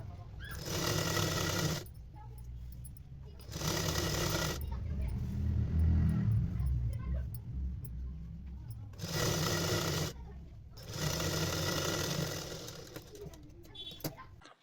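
A sewing machine stitches a waistband band onto a skirt in bursts of rapid whirring, separated by quieter pauses where a voice talks and cloth rustles.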